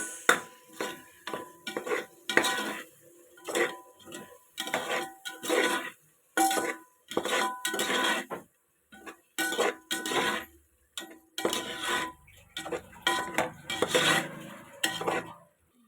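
Vegetable biryani mixture is stirred in a pan in quick, rhythmic strokes, each one a close scraping clatter of spoon on metal separated by short gaps, with a light sizzle underneath and no speech.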